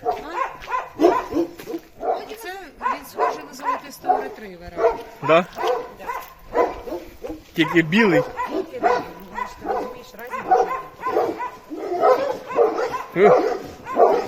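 A dog barks repeatedly in short bursts in the mountains near Genoa, mixed with people talking nearby throughout.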